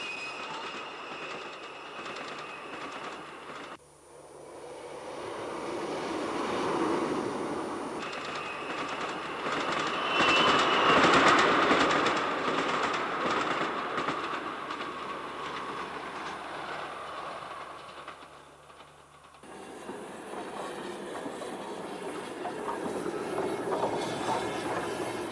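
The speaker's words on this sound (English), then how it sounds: "a new DMU in green cat's whisker livery rattles through on the down main line" Trains running through a station on the Cheddar Valley branch line, including a new green diesel multiple unit rattling past on the down main line; a loud, sustained rumble swells and fades, with a brief wheel squeal midway and no talk.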